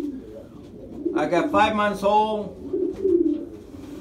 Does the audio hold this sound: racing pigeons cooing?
yes